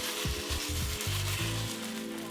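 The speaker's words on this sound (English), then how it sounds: "so as it sizzles, you guys want to make sure you guys kind of move it around from time to time" Meat for enchiladas sizzles in a pan, a steady close frying hiss with a few scraping stirs and low clunks over it.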